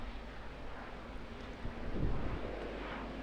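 An airliner departing Auckland Airport for Melbourne rumbles as a steady, fairly loud roar with wind buffeting the microphone, swelling slightly midway and holding without voices.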